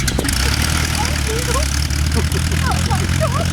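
Light aircraft engine and propeller running on a Slingsby Avalanche at an aero club airfield, a steady low idling drone under excited chatter and chirpy background noise.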